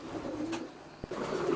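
Racing pigeons cooing in a loft, soft low repeated coos from several birds close by, with a faint thump in the middle.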